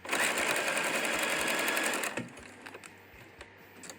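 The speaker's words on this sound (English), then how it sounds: "Right sides together. Sew my 1/4 inch seam." A sewing machine stitches a quarter-inch quilt seam for a pumpkin-themed quilt, running steadily and close for about two seconds before it stops, leaving faint handling clicks and quiet room noise.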